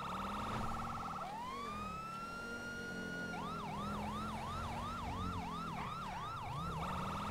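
Emergency vehicle sirens in the LSPDFR police game sound loud and close, first a rising wail, then a fast repeating yelp that cycles steadily over an engine drone.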